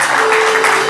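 Church congregation applauding during worship, a short burst of dense, loud clapping from many people with a faint steady tone underneath.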